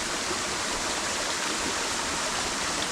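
A waterfall at Kadıköy roars in a steady, dense rush of falling water, loud and unbroken throughout, with no voices.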